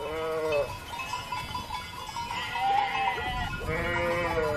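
Sheep in a Swiss Engadin alpine pasture bleating repeatedly, several wavering calls near and moderately loud, one at the start, another midway and one more near the end, over soft background noise.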